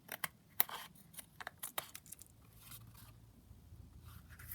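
Scissors snip and scrape while trimming down a piece of craft material, giving a quiet run of short close cuts and rustles that thin out into soft handling noise.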